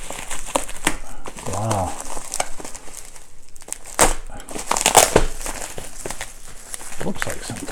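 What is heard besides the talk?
cutting open a package with a knife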